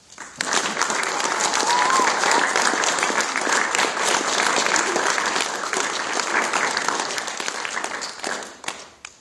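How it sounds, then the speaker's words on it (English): A crowd applauds steadily for several seconds at an Eagle Scout Court of Honor, dense clapping that fades out at the end. "Can we give Andrew one more round of applause?"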